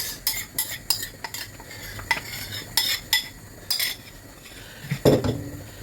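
Dissolved ogbono stirred into goat meat soup in a metal pot, with a spoon clinking and scraping against the sides in quick repeated strokes and a heavier knock near the end.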